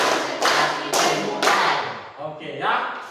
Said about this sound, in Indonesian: kita coba tepuk konsentrasi di penghujung